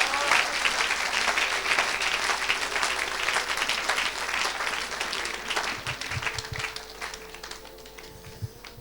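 Audience applause at a church mission service, dense sustained clapping from a crowd that gradually thins and fades toward the end, with a voice speaking faintly underneath.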